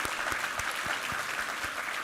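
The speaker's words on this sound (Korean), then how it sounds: "우리 하나님께 영광의 박수 올려드리겠습니다." A church congregation at a Sunday worship service gives dense, steady applause, many hands clapping together in a continuous roar at moderate distance, with no voices above it.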